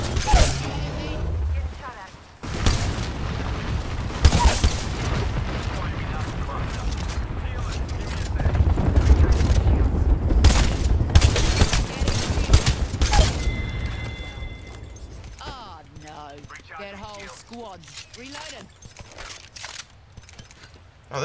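Gunfire and clattering weapon noises in an Apex Legends-style shooter with a Mozambique shotgun, dense and busy for the first two-thirds, then thinning out as a voice talks over it.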